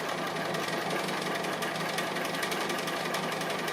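A sewing machine stitching an appliqué runs in a steady, continuous whir with a fine rapid needle patter, close and even throughout with no pauses.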